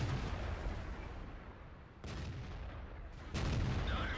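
World of Tanks cannon fire: a few heavy booming shots from tanks in battle, each a sharp blast with a rumbling tail, spaced a second or so apart at moderate distance.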